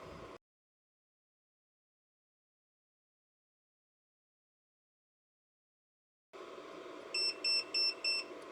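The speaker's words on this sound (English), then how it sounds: "It will beep that it's finished." A Longer Nano Pro 12W laser engraver gives a short series of four quick, bright beeps when its job finishes, ringing over steady background hum after a long stretch of silence.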